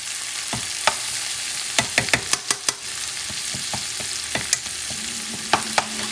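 Tomato paste sizzles in a pork sofrito base for Puerto Rican puerco guisado, a steady frying hiss punctuated by a series of sharp spoon clicks and scrapes against the pot, close and with no talking.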